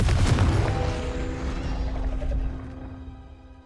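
A Confringo blasting spell explodes in Hogwarts Legacy with a loud, deep booming burst that rolls out and fades over a few seconds, heard alone without talk.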